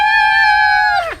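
Children scream together in a sustained, loud, high-pitched cry during the Row Your Boat rhyme at a library rhyme time, ending in a falling, trailing note.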